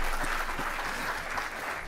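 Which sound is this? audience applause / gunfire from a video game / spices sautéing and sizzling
audience applause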